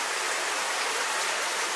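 Water seeps and drips from the ceiling of the Madakulam cave, a dense, steady hiss of falling water close by with no voices.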